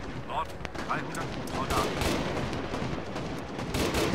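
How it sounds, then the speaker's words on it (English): Rapid bursts of gunfire from the military shooter game Arma 3, sustained and dense throughout, with overlapping shots and crackling reports forming a continuous loud barrage. "Oh, shots."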